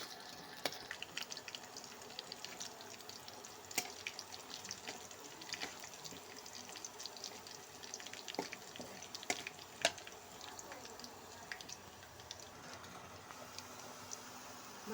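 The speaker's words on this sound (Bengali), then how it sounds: "দিয়ে লাল করে ভেজে নেব।" Chopped garlic and chilli fry in a pan, giving a steady quiet sizzle and crackle with scattered sharp pops throughout, heard alone without talk.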